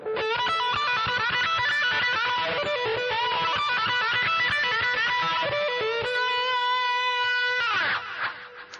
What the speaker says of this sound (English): And if you step on the wah-wah and play it fast,